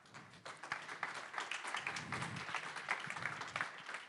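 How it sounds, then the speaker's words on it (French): Applause from the audience at a public talk in a hall, a faint, distant patter of clapping hands that swells slightly and continues at a low level. "Déjà, on va applaudir Jean Edkens"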